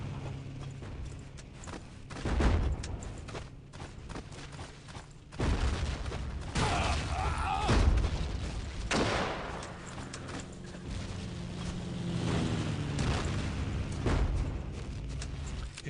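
Battlefield 1942 gunfire on the Kharkov map: a rifle shot followed by pistol shots amid heavy, booming battle noise, with several strong hits spread through a constant rumbling background.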